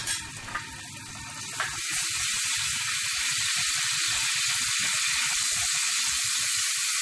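Ginger chili paste sizzles in melted butter in a hot pan for a mughlai paratha filling, a steady close hiss that builds after a couple of soft knocks and then holds, with no talk over it.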